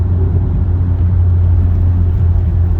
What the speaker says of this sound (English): But we must try out the engine.